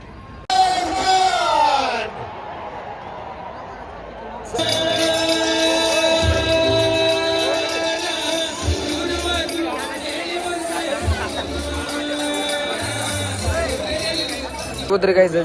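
Large crowd at a celebrity concert in Dharwad, a continuous roar of chatter and shouting layered with loud music and occasional yells, dense and close throughout.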